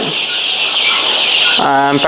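Chickens and roosters on a poultry farm raising month-old chicks cluck and call close by, a short burst of fowl sounds near the end over a steady background hiss.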